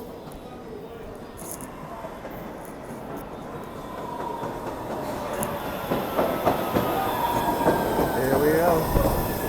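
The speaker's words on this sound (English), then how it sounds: "here comes the train" A train pulls into a station platform, its rumble building steadily from faint to loud, with wheel squeals and rhythmic rail clatter as it nears, and a brief spoken remark over it.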